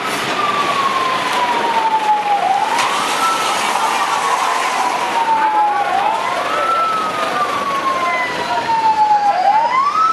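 Fire truck siren at a fire, wailing in long sweeping rises and falls that repeat several times, loud and steady over a rumbling street background.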